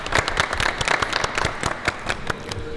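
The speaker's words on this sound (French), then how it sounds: "je vous demande d'applaudir une seconde fois Bruno Saint-Fort" An audience at an Audi Martinique dealership event claps for its host, giving brisk, fairly close applause of many hands that carries steadily throughout.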